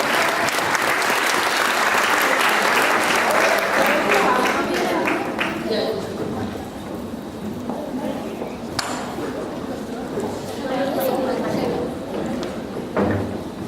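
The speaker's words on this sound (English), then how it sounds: "let's give a round of applause to Makia" Loud, sustained audience applause at a student leadership academy award ceremony, strongest at the start and thinning into scattered clapping and cheers, with voices talking over the tail end.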